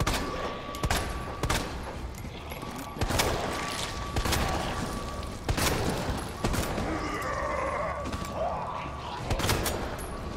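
Heavy hand cannon revolver fired repeatedly in Resident Evil 2, a series of loud, sharp booming shots spaced a second or two apart over continuous game noise, with someone briefly talking.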